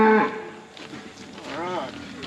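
A cow being handled during calf processing and pregnancy testing gives a drawn-out, wavering moo that rises and falls, fairly close, after a short sharp noise at the start.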